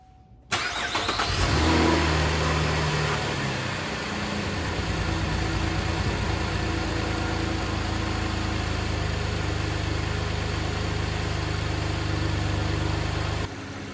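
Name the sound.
GM 3.6L engine starting, revving and idling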